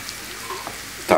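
Onion frying with bacon and sausage in a pan for Silesian żur, a low sizzle under a brief stirring clatter near the end.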